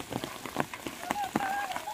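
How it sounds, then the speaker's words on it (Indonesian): Rain falling in a village at the start of the rainy season, scattered drops pattering irregularly on nearby surfaces, fairly faint, with a voice calling out briefly in the background. "Di desa ini hujan baru turun"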